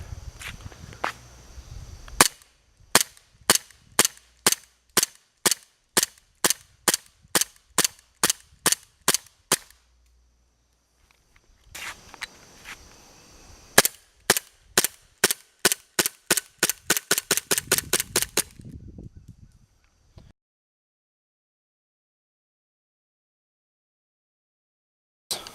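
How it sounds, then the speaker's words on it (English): An RWA Nighthawk Custom Covert Ops M1911 pistol fires at a tree about 100 feet away. Two bursts of sharp, crisp cracks come in quick succession, roughly a dozen shots and then about twenty, with a pause between and near-silence after. "we're going to be shooting at this tree about 100 feet away."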